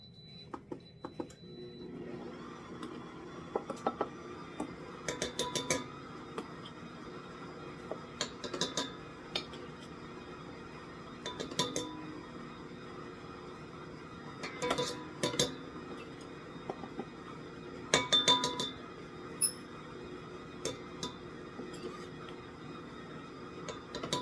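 Stand or hand mixer blending dry ingredients into peanut blossom cookie dough, a steady mechanical whir with repeated clinks and taps against the bowl throughout.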